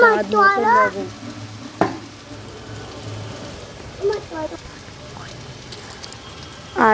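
Spices frying in a pan during a village home lunch, a soft steady sizzle with scattered scrapes and taps of stirring, broken by brief bits of speech at the start, middle and end.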